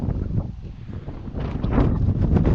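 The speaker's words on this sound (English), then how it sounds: "Very windy" Strong wind gusting at Rhuddlan Castle, a low rumbling buffet across the microphone that swells louder in the second half, with no voices heard.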